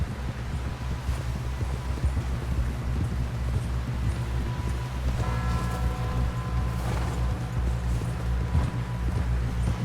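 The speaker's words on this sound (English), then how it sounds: "Someone help John down off this horse." Horse hooves clip-clop steadily in Red Dead Redemption, a continuous trotting rhythm over a low rumbling background, moderately loud throughout.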